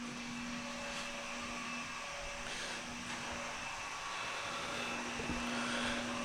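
Samsung Powerbot R7040 robot vacuum cleaner running, a steady faint motor whine and airy hum with a constant tonal drone, unbroken throughout.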